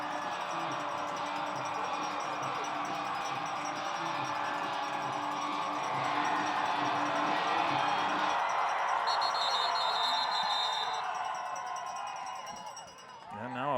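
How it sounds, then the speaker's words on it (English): A high school playoff football crowd at Centennial roars in a broad, swelling wash of cheering from the stands, loud and sustained, with a commentator talking over it. "And now the defense imploring their crowd to get loud."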